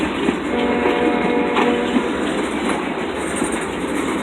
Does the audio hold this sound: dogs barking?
no